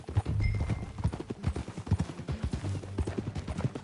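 Horse hooves gallop in a fast, steady clip-clop rhythm on a trail in the Red Dead Redemption 2 video game, close and loud throughout with no voices.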